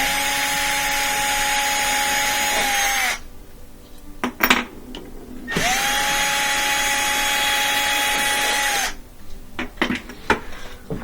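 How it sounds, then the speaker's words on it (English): A power drill with a 1/4 inch socket extension whines in two long, steady bursts removing bolts from an LG washer, with metallic clinks and clatter in the pauses between them, close up. "I just got a extension for my drill"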